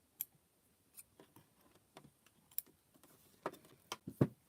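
Scissors snip through fabric-wrapped rope in a sparse run of quiet, crisp clicks and cuts. A couple of louder snips come near the end, close and alone.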